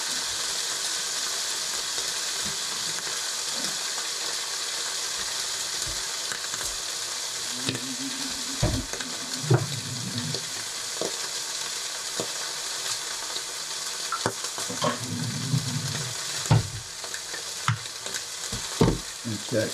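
Food sizzles and crackles steadily in a hot pan, a constant bright hiss with occasional louder pops and stirring scrapes.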